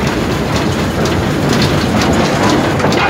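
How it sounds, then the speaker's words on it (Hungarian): An American-built steam locomotive train rolling through Budapest: a loud, steady rumbling roar with dense broadband clatter of wheels on rails, continuous throughout with no pauses. "Egy amerikai gyártmányú gőzmozdony, ott is készült az USA-ban."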